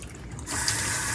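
Hot water from a kitchen sink faucet starts running after a brief quiet moment, settling into a steady broadband splashing rush that continues to the end.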